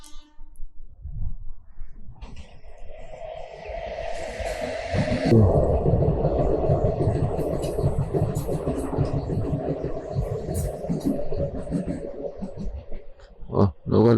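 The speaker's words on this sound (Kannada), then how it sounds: "Local train." A local train rolls past a patched roadside stretch in Andhra, a low rumble that swells and holds steadily for several seconds, with a faint voice at the start and a few knocks near the end.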